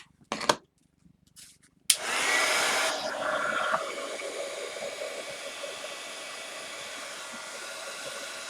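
A heat embossing tool whirs on over a Christmas card after a few short clicks and bursts, a steady close blowing hiss that eases slightly and then holds to the end.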